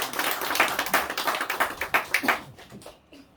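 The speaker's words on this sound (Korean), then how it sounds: "함께 영광의 박수를 드리겠습니다" A church congregation at a Sunday afternoon worship service gives a round of applause. Brisk, fairly close clapping with a rhythmic pulse lasts about two and a half seconds, then fades out.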